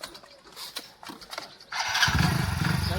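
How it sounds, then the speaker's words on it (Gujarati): A new motorcycle starts up after a few faint clicks and shuffles, then its engine catches and settles into a steady, close, loud idle rumble. "હવે તો વાંધો નહીં. બાઈક આવી ગયું."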